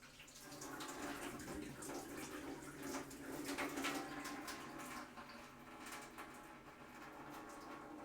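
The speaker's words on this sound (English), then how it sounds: "drain water and immediately run cold water over eggs until cooled" Cold tap water runs steadily over boiled eggs in a kitchen, with a continuous splashing rush that holds at a moderate level throughout and has no talking over it.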